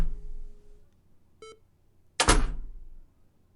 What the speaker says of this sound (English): That's the same metal sound door effect